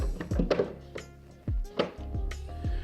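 Cigar boxes set down onto shelves inside a 16-litre NeedOne electronic cigar humidor, giving several close, dull wooden thunks and knocks in an irregular series, with no talk.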